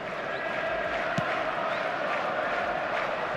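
Steady roar of a large stadium crowd in the eFootball 2024 video game, a constant dense wash of voices with a brief thump partway through.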